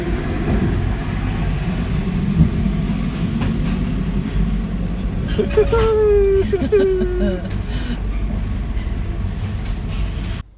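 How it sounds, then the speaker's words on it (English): A steady low rumble and rushing hum inside a moving train carriage in the Eurotunnel, with a brief whining squeal rising and falling midway. "We're inside a train in the Eurotunnel."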